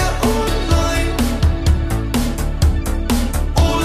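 The first verse of a song plays loud and steady, with a pulsing beat, bass and synth layers and regular percussive hits throughout.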